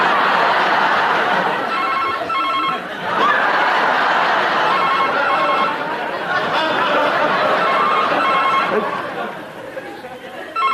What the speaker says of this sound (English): That must be my phone.